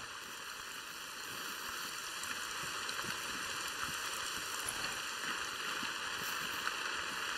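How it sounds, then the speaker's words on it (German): Steady rain pattering down in The Hunter: Call of the Wild, a continuous even hiss that carries on without a break, with no talk over it. "Ah, jetzt Regen, danke."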